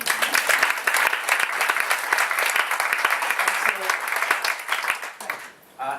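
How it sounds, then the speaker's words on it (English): Audience applause at a literary event with an author, a dense steady patter of many hands clapping close and loud for about five seconds before tapering off near the end. "Can we have a quick round of applause?"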